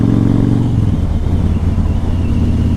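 A modified Yamaha Raider motorcycle accelerates hard, its loud, deep engine roar filling the clip with a throbbing low rumble that shifts as revs climb, close and continuous.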